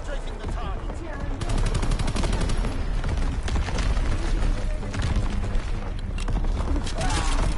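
Call of Duty WWII battle with artillery fire and aircraft strafing: rapid, loud bursts of machine-gun fire rattle almost continuously over a dense combat din, with no talking.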